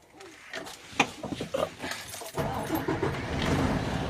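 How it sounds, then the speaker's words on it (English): A truck engine cranks and fires up after the key is turned, a few rattling clicks and thumps giving way to a steady rumbling idle, close by and alone. "Push in the clutch, turn the key, let the truck cycle through. Go ahead and fire it up."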